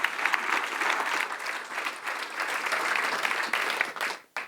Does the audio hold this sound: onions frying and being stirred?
no